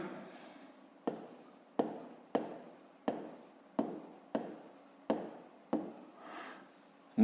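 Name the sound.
writing on paper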